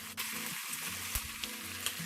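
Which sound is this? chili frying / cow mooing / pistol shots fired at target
chili frying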